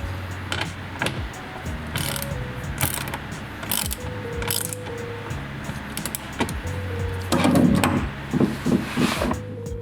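A ratchet driving the three headlight mount screws back in on a 2013-2016 Mazda CX-5, repeated close clicking strokes in bursts with short pauses, louder near the end.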